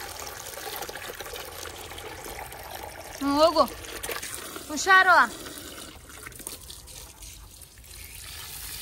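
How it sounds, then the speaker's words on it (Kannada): Water is poured from a mug or bucket onto a hibiscus plant, a steady soft trickle running throughout beneath a voice talking close by. "ಒಂದು ದಾಸವಾಳ ಗಿಡಕ್ಕೆ ನೀರು ಹಾಕಿದ್ದೀನಿ."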